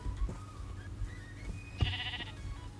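Sheep bleating in Minecraft, a few short game bleats, including one loud, bright cry near the end, over a low ambient game background with no talking.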